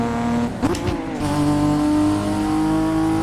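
Cars accelerating hard along a road on a drive from village roads onto a highway, a loud engine roar with a brief rising rev and shifting pitch, sustained close up without talk.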